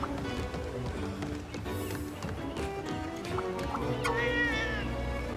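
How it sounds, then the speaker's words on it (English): A feline character in Monster Hunter Rise: Sunbreak gives a clear rising-and-falling meow late on, over game music and background effects, with a faint voice beneath. "They seem to just speak in cat noises"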